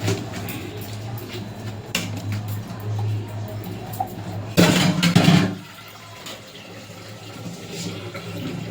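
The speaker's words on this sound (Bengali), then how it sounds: "এই যে আমি ঝুড়িতে ঢেলে নিয়েছি, জলটা আমি ঝরিয়ে নেব" Boiled jujubes poured from a pressure cooker into a basket for a sour-sweet pickle, a brief splashing gush of water lasting about a second over steady kitchen background hum, then quieter dripping drainage.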